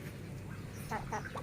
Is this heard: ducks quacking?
yes